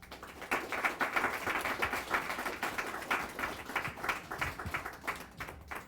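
A small audience claps after a lunchtime jazz program, a sparse, fairly quiet patter of hands that rises and falls unevenly and continues for several seconds.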